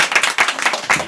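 A studio audience at a Korean variety show gives a quick burst of clapping, sharp uneven hand claps close and moderately loud for about a second, with no talking over it.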